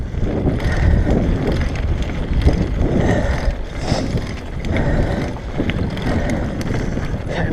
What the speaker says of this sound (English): I can hear the wind, but I'm not feeling it